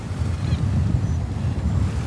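Waves breaking on a North Sea beach on Norderney during surf fishing for sea bass, a steady loud rumbling wash of surf mixed with wind buffeting the microphone, with no talk.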